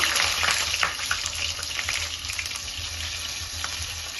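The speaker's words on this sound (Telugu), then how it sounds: "ఈ చిన్నుల్లిపాయలు అన్నమాట, చిన్నుల్లిపాయలు కూడా వేస్తున్నా" Small onions sizzling steadily in hot oil in a frying pan for a lentil and brinjal stew, a dense continuous crackle with faint stirring scrapes, close and fairly loud.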